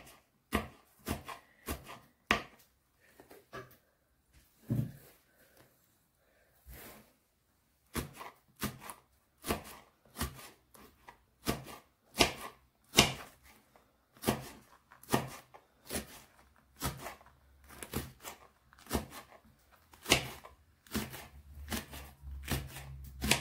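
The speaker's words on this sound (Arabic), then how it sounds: "ها هو الفلفل الأخضر، سأعمل على تقطيعه على شكل حلقات هو الآخر." Green pepper is chopped into rings with a knife on a board, producing crisp, evenly spaced close taps in steady runs with a brief pause partway, no talk.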